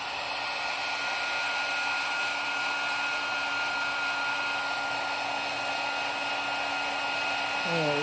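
A heat tool is melting Distress embossing glaze, producing a steady, close, loud blowing whoosh with a constant whine that runs unbroken throughout. No one speaks.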